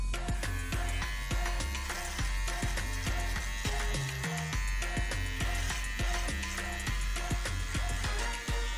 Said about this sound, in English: So I'm gonna be cutting a line up the side of the neck and then going this way to shave the hairs.